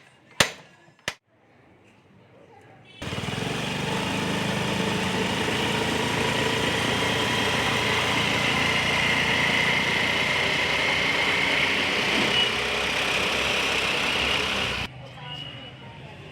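A Honda Activa 5G scooter engine runs steadily after a gearbox repair, a continuous even idle-like hum holding for about twelve seconds, preceded by two sharp clicks and followed by a quiet stop.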